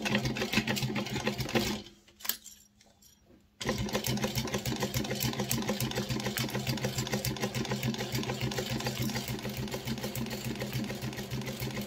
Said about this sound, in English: I'm going to go ahead and sew along the straight line here at the seam allowance that is mentioned in the pattern